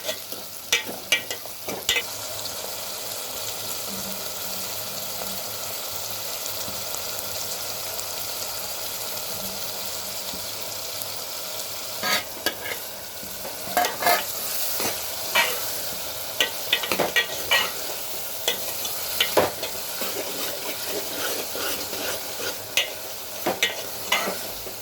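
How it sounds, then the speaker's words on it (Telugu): Onions, green chillies and tomatoes frying in a pan, with a steady sizzle under repeated clinks and scrapes of a spoon stirring, close by and without talk. "ఉల్లిపాయలు, పచ్చిమిరపకాయలు, తర్వాత టమాటా వేసుకోవాలి. కోసి పెట్టి 4 టమాటాలు వేసుకొని టమాటాలు బాగా మగ్గే వరకు ఉడకనివ్వండి"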